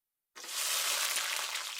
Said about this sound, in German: Ich erhitze etwas Öl in einer separaten Pfanne und brate die Würste bei mittlerer Hitze